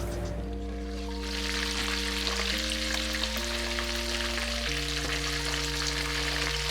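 Food crackling as it fries in a pan, a dense constant sizzle beneath steady background music, with no talking.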